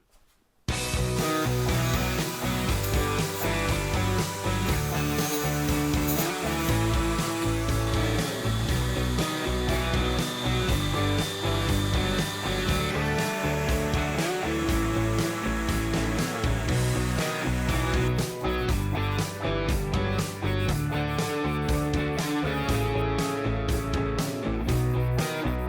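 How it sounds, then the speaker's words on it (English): A power sander works wood in a shop, a loud, steady buzzing roar that starts abruptly after a brief quiet moment and runs on without pause. "let's go sand something"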